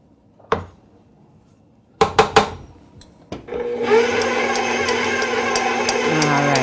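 A stand mixer fitted with a paddle, mixing rose cookie dough. A few knocks and clanks come first, then the motor whirs to life and settles into a steady, loud mechanical hum with a rhythmic churning.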